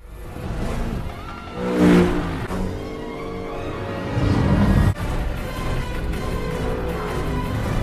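Car speeding through a film chase scene, engine revving and surging with whooshing pass-bys and a sharp jolt midway, loud and close over a busy soundtrack.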